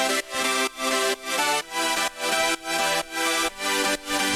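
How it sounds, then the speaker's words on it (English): Bright synth saw chords from a progressive house track pulse in a steady sidechained rhythm, about nine evenly pumping hits carrying the main melody, loud and alone. "So right here we have the saw chords"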